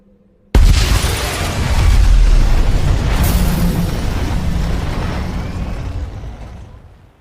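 A sudden, loud car bomb explosion in an action film booms out, then a heavy rolling rumble lingers and slowly fades away. No voices.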